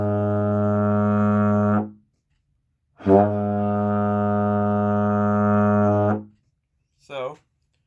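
A euphonium sounds two long sustained low brass notes, the second a step higher, each held a couple of seconds with a short gap between, then a brief bending note at the end; close and alone.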